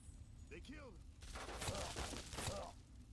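Enemy gunfire in the Fallout: Tale of Two Wastelands game comes as a few sharp, crackling shots and impacts, fairly faint, mixed with brief voice-like sounds.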